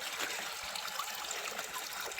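Water trickling and babbling in a small stream along a cycling route in Bulgaria near the Romanian border, a steady close gurgle with bright splashy detail and no talk.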